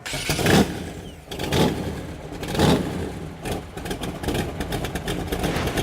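A street rod's engine rumbles loudly up close, repeatedly revving and settling back to a lumpy, throaty idle.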